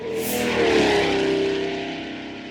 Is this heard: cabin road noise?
yes